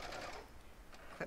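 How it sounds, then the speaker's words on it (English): A sewing machine backstitches binding on Cuddle Minky fabric, giving a short, faint run of whirring stitches. "I'm gonna backstitch a little bit"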